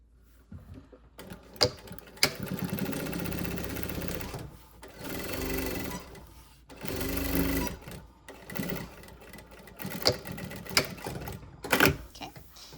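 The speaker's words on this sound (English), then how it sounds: "I'm gonna sew the bottom of the bag." A sewing machine stitches the bottom seam of a mini shopping bag in several bursts of rapid mechanical whirring separated by pauses, with clicks and handling noises between runs.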